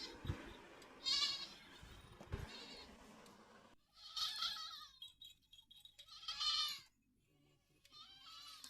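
Goats on a farm bleat in several loud, drawn-out calls spaced a few seconds apart, with quieter farmyard rustling in between.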